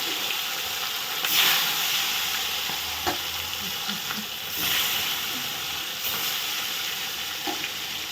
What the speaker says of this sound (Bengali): পরের মাছগুলো আবার একইভাবে সবগুলো দিয়ে দিলাম